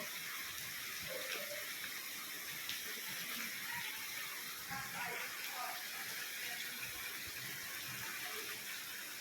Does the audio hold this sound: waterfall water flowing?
yes